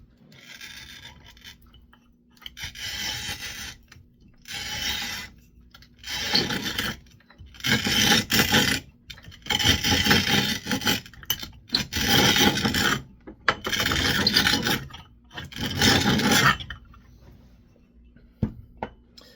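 A bottle cutter scores a glass wine bottle in a series of firm, gritty rasping strokes, each lasting a second or two and separated by short silences, close up and with no voices.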